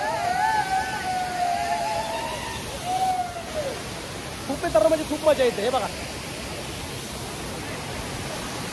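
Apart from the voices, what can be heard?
Kalu waterfall in Malshej Ghat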